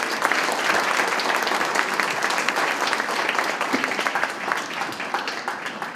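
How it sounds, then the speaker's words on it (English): A crowd at a community development ribbon cutting applauds: dense, steady clapping that holds at an even level for the whole stretch, with only faint voices underneath. "Give them a round of applause."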